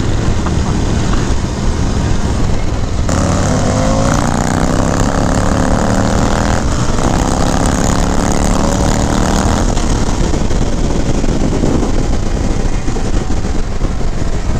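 A 2019 Indian FTR 1200 S motorcycle engine revs loudly on a ride, its roar rising and falling in pitch through repeated accelerations over steady wind rush.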